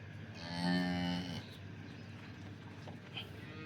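A local Banaskantha cow at a cattle market gives one clear, fairly close moo lasting about a second, followed by quieter background murmur and shuffling.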